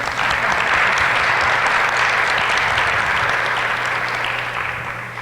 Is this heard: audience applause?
yes